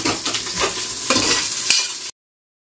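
Green chillies and onions sauté together in a hot pan, a loud, steady sizzle broken by several scraping stirs, close up with no voices.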